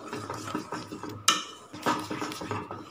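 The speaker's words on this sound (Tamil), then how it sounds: "இப்போ விடாமல் நல்லா கலக்கிட்டே இருக்கணும்" Spoon scraping and clinking against a pan while mango burfi mixture with sugar is stirred, repeated soft scrapes with one sharper metallic clink, fairly close and quiet, no talking.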